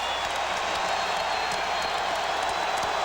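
A basketball crowd for Kentucky at Vanderbilt in January 2000 roars steadily as fans stand, a dense, even wash of cheering and applause with no break across the moment.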